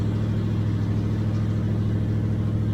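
A 454 V8 fitted with long tube headers and Flowmaster mufflers revs steadily, its loud, deep exhaust rumble sustained and close throughout.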